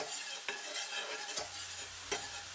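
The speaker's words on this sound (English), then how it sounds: "so you can saute the ingredients in high speed" Onions sizzle as they are sauteed in a pan over high heat, with a steady frying hiss broken by a few sharp scrapes and clinks of a utensil stirring against the pan, close and moderately quiet.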